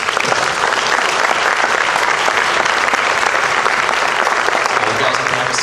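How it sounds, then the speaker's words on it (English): An audience at a school band concert awards ceremony gives a loud, full round of applause that stays dense and even from start to finish. "One more big round of applause for them,"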